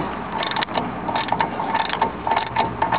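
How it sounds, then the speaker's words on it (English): A ratchet wrench tightens the tie rod end nut on a GMC, giving a fast run of close, crisp clicks in short repeated bursts, with no talking. "And then we'll just ratchet it down."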